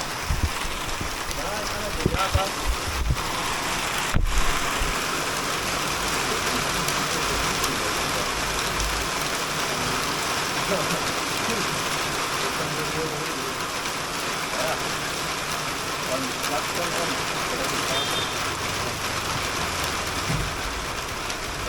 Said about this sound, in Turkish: Hemen yağmur başladı.